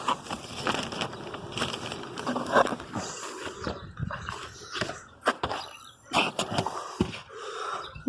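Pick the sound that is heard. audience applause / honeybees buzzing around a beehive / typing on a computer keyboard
honeybees buzzing around a beehive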